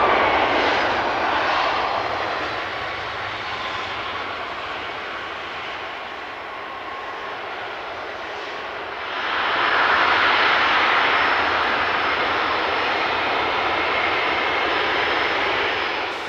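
A heavy PIA Boeing 747-300 jet roars through a long take-off run: a broad, steady engine rumble that dips slightly midway and then swells louder again. No voices are heard.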